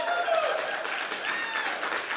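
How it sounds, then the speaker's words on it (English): An audience at a longevity investment summit demo day applauds, a dense, even patter of clapping hands that holds steadily across the short stretch with a voice faintly heard over it. "You can clap again."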